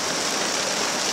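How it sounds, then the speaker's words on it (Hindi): Heavy rain pours steadily during a flood in Al Huqain, Wilayat Rustaq, Oman, a dense continuous hiss with no voices in this short stretch. "इधर तो बारिश ही बहुत तेज है।"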